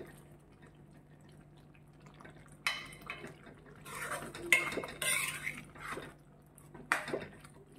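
Spoon scraping and clinking against a pot while mixed vegetable gravy with potatoes and coriander leaves is stirred, a few sharp metallic knocks and scrapes in bursts over a steady low hum.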